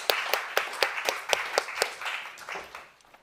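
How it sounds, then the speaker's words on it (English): An audience at a design thinking research event claps for a panel, with a few distinct loud claps standing out over a steady wash of applause that tapers off toward the end. "let's give them a big round of applause."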